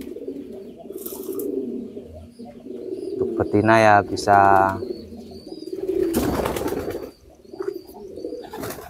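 Pigeons coo in a loft, their low rolling calls rising and falling through the middle of the clip, with a burst of wing flapping or fluttering later, while someone talks over the birds.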